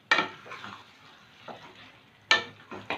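Chicken added to a spiced pan and stirred on high heat: a couple of sharp scraping clatters from a spoon against the pan, with a soft sizzle between them, close and without talk.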